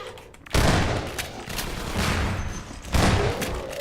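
Gunshots striking the player in Half-Life 2: Episode Two, two loud heavy bursts of impact and gunfire, the first lasting a couple of seconds and the second hitting near the end.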